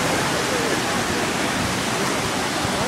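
A flooded river rushes during Hurricane Irene in Millburn, New Jersey, a loud, dense, unbroken roar of churning water close by.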